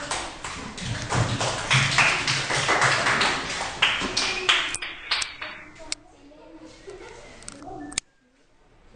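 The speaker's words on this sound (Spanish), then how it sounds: "Aplauso para Jordi" A class of children applauds a classmate in a school lesson, brisk clustered claps that are loud at first, then thin to scattered single claps and fade into near silence.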